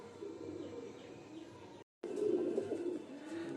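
Giribaz Kala Sabuj pigeons in a loft coo softly and continuously, low murmuring calls layered together, faint and close, with a brief dropout partway through.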